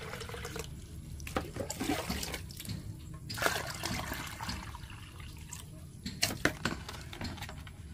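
Water poured from a container onto a patch repaired with a cement and sugar mix, splashing and running in a steady wash with a few louder gushes, close by and with no talking.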